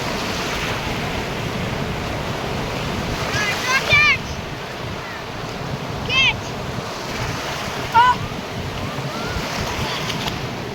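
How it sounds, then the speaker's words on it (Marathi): Rough Arabian Sea surf at Murud beach washes in continuously with wind noise, while brief high voices or calls rise over the waves a few times. "जरा खवळलेला वाटतंय समुद्र. आत्मा सगळी वाळू घेऊन येतोय,"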